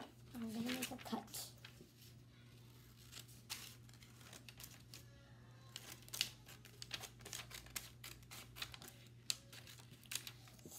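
Scissors snipping through paper for a homemade telescope: a faint, close run of small crisp cuts and rustles at an irregular pace over a steady low hum.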